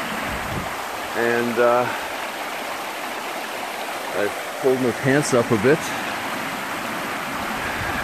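A creek rushes steadily at a river crossing on a backpacking trail in Algonquin Park in April, a loud, even wash of water throughout while someone speaks briefly over it.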